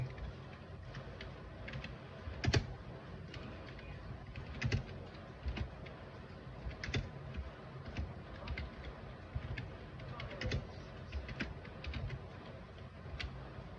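Typing on a computer keyboard into an edit box, a steady run of light, quiet key clicks with a few louder strokes, heard close with no talking.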